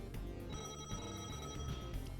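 The Bowser phone rings in the Mario Party 3 video game, a bright electronic trill that repeats in short bursts, fairly quiet over low game music.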